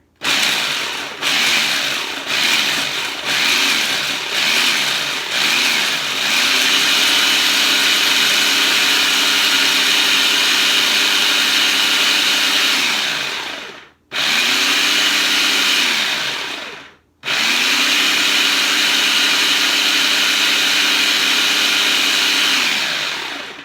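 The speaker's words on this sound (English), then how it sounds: "I'm going to pulse it so that way it like stops the blade every once in a while to keep it moving in there" A food processor pulses pecans for scone dough: a loud, steady whirring grind runs for long stretches, stopping abruptly twice for brief silences before restarting, with no talking.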